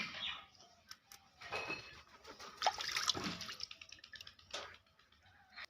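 Water splashing and dripping while a singed, burnt pigeon is rinsed by hand, with irregular wet sloshes and trickles, fairly close and quiet, with faint bird calls in the background.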